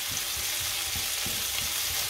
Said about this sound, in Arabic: حطيت زيت الزيتون وحطيت البصلة باش نحمصها واحد شوية. So it starts sizzling.